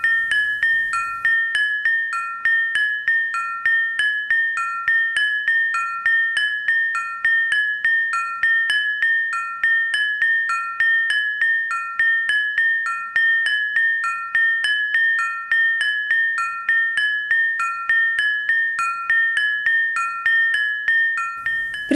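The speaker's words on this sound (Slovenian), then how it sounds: "Med udarci prvega in drugega zvona udarja najvišji zvon." Church bells struck in a rapid, steady, even pattern, the highest bell hitting between strokes of the first and second, with bright ringing tones repeating continuously, loud and close.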